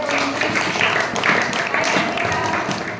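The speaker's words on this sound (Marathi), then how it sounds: "टाळ्या वाजवा" Students clap together in a secondary school classroom, a dense and fairly loud spell of applause that carries on for about three seconds.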